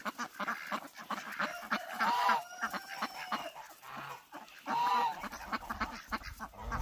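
Farm ducks quacking and honking in a busy, overlapping chorus, several birds close by calling in rapid irregular bursts with a few longer nasal honks, no talk.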